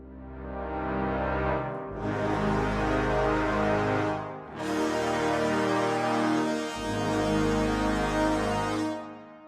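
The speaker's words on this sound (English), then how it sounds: "super warm that just has that rounded brass ensemble sound" A warm, full sampled brass ensemble from the Native Instruments Symphony Series plays sustained chords, the harmony shifting every couple of seconds with no other sounds.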